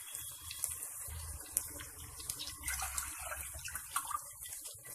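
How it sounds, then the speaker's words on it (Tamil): Water gushes from a tap into a vessel of basmati rice being readied for biryani, a continuous splashing pour with a bubbling, slightly hollow tone, steady and close with no talk. "2 கப்பு தண்ணி ஊற்றணும்."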